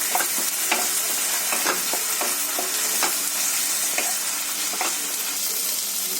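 A tablespoon of tomato ketchup is stirred into a sizzling mixture in a pan for a prawn pepper fry: a steady frying hiss under repeated spoon scrapes and taps against the pan, close and with no speech.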